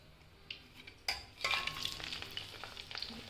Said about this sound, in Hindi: सो फिर से फ्राई करते हैं